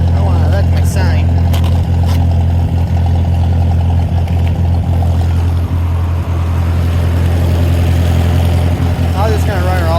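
A Ford 620 tractor with a Sherman forklift attachment idles steadily with a deep, even engine drone close by, a few small clicks and knocks scattered over it and a faint higher whine rising near the end.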